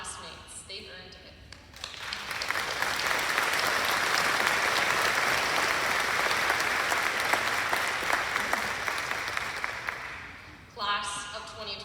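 A graduation audience at the Augusta Prep class of 2025 ceremony breaks into sustained applause, a loud wash of clapping that swells and holds for several seconds, with speech briefly before and after.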